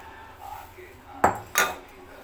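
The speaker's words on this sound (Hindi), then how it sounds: "ये पानी से मैं इसको अब घोल लूँगी" Herbal hair pack paste is mixed with water in a bowl, giving two sharp, close metallic clinks over a quiet background hum.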